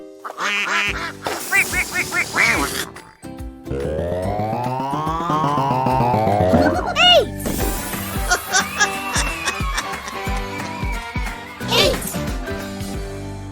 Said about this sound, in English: 7 ducks are swimming in the lake.